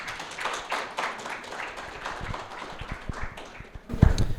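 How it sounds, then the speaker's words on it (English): Audience clapping for a keynote speaker at Keenevention 2015, a modest, uneven round of hand claps that thins out, followed by a sharp close bump near the end. "please give him a round of applause"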